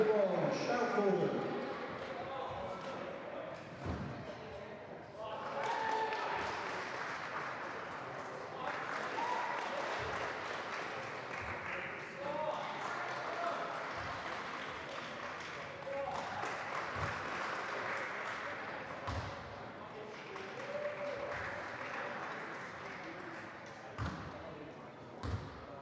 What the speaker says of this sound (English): give them loads of cheering and shouting and whooping